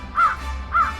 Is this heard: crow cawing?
yes